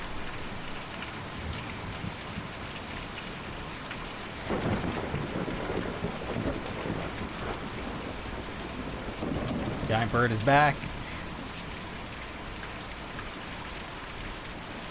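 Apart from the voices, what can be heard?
rain and thunder in video game Kentucky Route Zero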